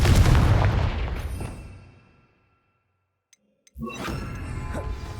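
A Confringo spell blast in a Hogwarts video game: a loud explosive boom with a long rumbling decay fading to silence, then a second burst of blast and debris noise follows after a brief gap.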